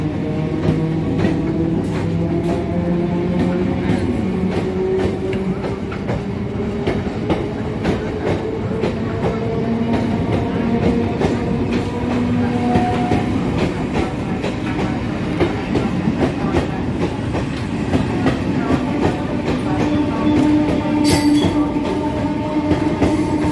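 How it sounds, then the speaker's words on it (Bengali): A Budge Budge local train rolls into the platform at Lake Gardens station in Kolkata. It gives a loud continuous rumble with clickety-clack of the wheels and rising and falling squeals and whines, heard close and without talk. "এই হচ্ছে বজবজের ট্রেন ঢুকলো"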